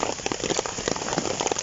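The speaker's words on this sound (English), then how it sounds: "The weather is absolutely awful. Lots of rain." Heavy rain pours down at a woodland campsite, a dense, steady patter drumming close by on a surface, with no voices.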